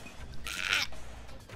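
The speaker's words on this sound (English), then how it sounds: "Boy, that sheep is going." A sheep in the Moving Out video game lets out a single short, nasal bleat over faint background game sound.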